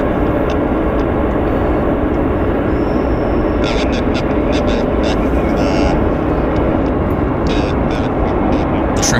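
Air Canada Boeing 777 arriving from Narita, Japan, a steady broad engine roar holding loud throughout, with faint radio chatter and voices over it.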